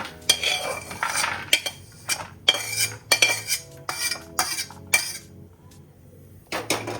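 A metal spoon scrapes and clinks against a pan as ghee-roasted dry fruits are scooped out, in a series of sharp, close, uneven knocks and scrapes with brief pauses, and no talking.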